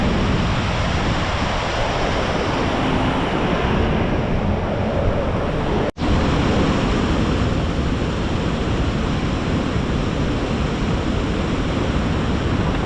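Powerful rushing water from a river in Kashmir, a loud, steady broadband roar that fills the scene continuously from start to finish, with only a momentary break partway through and no voices over it.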